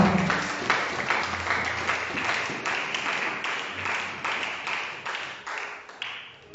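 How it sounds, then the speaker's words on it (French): Congregation in a church applauding after a scripture reading, a sustained crowd of hands clapping for several seconds, fairly loud and close, with a faint voice underneath. "On acclame le Seigneur pour cette parole."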